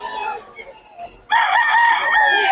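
A rooster crows loudly and close, a long harmonic call starting partway through after quieter clucking and background murmur, at a chicken yard in Bocaue.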